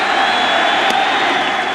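A packed baseball stadium crowd roars and cheers as Fielder steps up to bat in a Mets–Yankees interleague game, a loud sustained wash of voices with a brief whistle-like spike midway.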